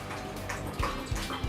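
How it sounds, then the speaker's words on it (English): A dog laps water loudly from a bowl, with a steady wet slurping and splashing that runs through the whole short stretch and has a few stronger gulps near the end. "you are the loudest water drinker anybody's ever been around"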